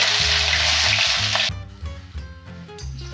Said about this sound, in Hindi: और 3 प्याज है, जिसको बारीक काटी हुई हूँ, इसको भी डाल देंगे।